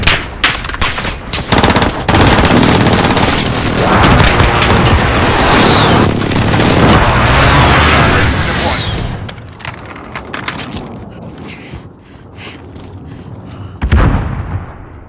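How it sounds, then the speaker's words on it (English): Precision airstrike in a first-person shooter video game, a sustained barrage of heavy explosions and rapid gunfire that fills most of the clip, loud and dense, then thins to scattered bangs with voices faintly under it. "need precision airstrike."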